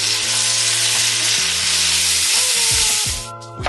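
Butter and garlic frying in a pan for a shrimp enchilada filling, giving a loud, dense, continuous sizzle close up with faint stirring, easing off slightly at the very end, with no talk.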